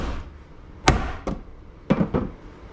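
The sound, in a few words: manual impact driver struck with hammer to loosen T30 bolts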